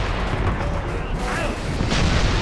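Cannon fire thunders during a naval fight in Call of Juarez: Bound in Blood, a sustained loud, deep rumble of blasts and battle din with someone talking underneath.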